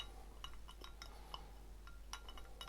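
Spoon clinks against a glass vessel while developer chemicals are stirred to dissolve them, a scatter of faint, irregular light taps over a steady low background hum.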